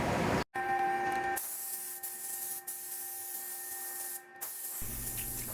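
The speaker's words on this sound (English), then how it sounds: "But I mixed a little thinner with it, and it actually sprayed pretty good" A siphon spray gun sprays thinned epoxy paint during a center console boat project, giving a steady hiss for about three seconds, with a brief tonal hum before it and quieter background afterward.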